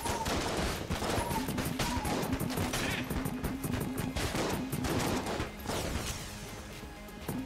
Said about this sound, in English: Need to keep firing